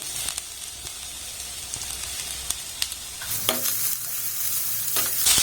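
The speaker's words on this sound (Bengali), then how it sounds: "এবার পেঁয়াজ আর বিনসটাকে একটু নাড়াচাড়া করে ভেজে নেব" Onion, beans, green chilli and carrot stir-frying in a pan: a continuous sizzle with repeated spatula scrapes and clacks, growing slightly louder toward the end, with no talking.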